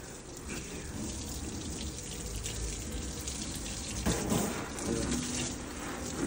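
Water runs and splashes steadily while a sofa is washed, a continuous broadband gush with a slight surge partway through, fairly close and with no talking.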